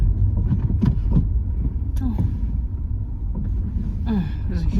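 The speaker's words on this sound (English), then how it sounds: "there's a huge truck here" A huge truck rumbles past on a road in a residential area on a hot day, a loud, close low drone with gusts of wind across the microphone while a person talks over it.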